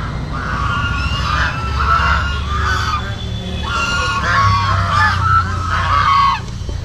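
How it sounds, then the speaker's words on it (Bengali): A flock of geese honking repeatedly in loud overlapping bursts on a pond beside a temple at Nabadwip, with a steady low rumble of crowd and ambient noise underneath. "রাজহাঁস রয়েছে প্রচুর সব সারি সারি হয়ে আসছে"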